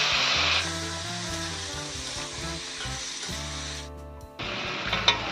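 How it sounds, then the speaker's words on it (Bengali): Fresh, unboiled green jackfruit pieces fry in hot oil for a dhaba-style jackfruit and prawn dish, giving a steady, close sizzle that drops away briefly and then crackles back up. "ওই তেলের মধ্যে আমি এঁচড়গুলো ভেজে নেব।"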